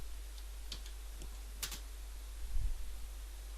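A handful of sparse, quiet keystrokes on a computer keyboard, spaced irregularly, while text is entered into a dimension field during SolidWorks drafting.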